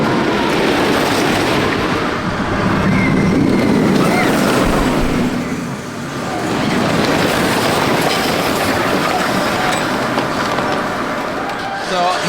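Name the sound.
roller coaster train passing overhead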